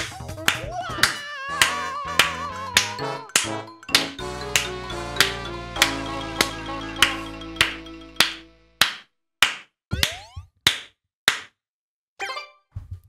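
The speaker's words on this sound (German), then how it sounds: "Das war echt laut gerade, das Klatschen." Loud clapping in a Super Mario Sunshine gaming session, a long series of sharp, evenly spaced claps that grow more separated toward the end, each ringing briefly with a metallic tail.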